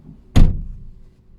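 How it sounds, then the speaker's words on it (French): A Peugeot 208 car door swings shut with a single close, solid thunk that rings out briefly and decays into quiet. "Alors, je ferme la porte."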